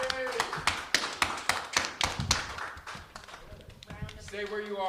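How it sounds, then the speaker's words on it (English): Audience applause for Randy Hughes at a live comedy show, a dense run of quick claps and taps that thins out, with a voice talking over the end. "a big round of applause for Randy Hughes"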